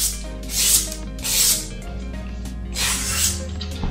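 A freshly stropped knife blade cuts smoothly, giving several soft hissing, rasping slices close up, with steady low hum beneath.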